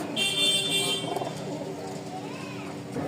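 Pigeons in a loft holding three breeding pairs and two single hens give soft, low cooing through a short stretch, with a faint higher chirp and some background noise.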